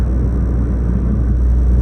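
The 1.6-litre turbo engine of a Toyota GR Corolla drones steadily while driving on the Hakone Turnpike, a continuous low rumble with road noise and no voices.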